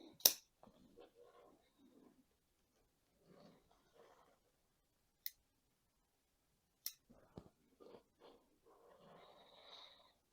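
Pruning shears snip a dwarf jade bonsai, giving a few sharp, isolated cuts that sound close, separated by quiet stretches. Soft breathing and handling noises can be heard between the cuts.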